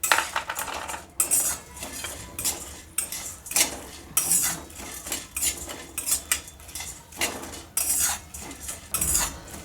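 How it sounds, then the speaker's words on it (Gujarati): Sunflower and melon seeds tumble into a pan for dry roasting, with dense rattling, clinking and scraping of a metal utensil against the pan throughout, loud and close with no voices. "સનફ્લાવર સીડ્સ નાખીશું અને મગજ તરીના બીજ નાખીશું"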